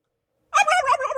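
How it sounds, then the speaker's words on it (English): A turkey gobble sound effect plays alone after a moment of silence, loud and close, as one rapid, warbling burst of gobbling. "Was that an actual sound effect, or was that one of us pretending to be chickens? That was the I think it's a turkey."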